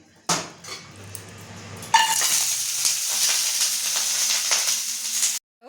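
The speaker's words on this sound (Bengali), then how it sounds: "তুলে আমি এটা এখানে দিয়ে দেবো, তেলের মধ্যে ছেড়ে দেবো।" Bori lentil dumplings go into hot oil: a few soft knocks, then a sudden loud, steady sizzle that continues close up until it cuts off abruptly.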